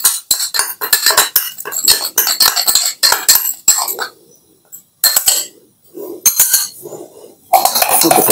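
Homemade soap mixture being stirred in a pot off the heat, sharp metallic scraping and clinking of a spoon against the pot in fast bursts, loud and close, with brief silent pauses between strokes.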